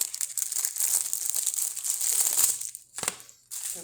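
Plastic wrapping is torn and crinkled off a bag of microwave popcorn, a close, busy run of crackles and rips with two short pauses near the end.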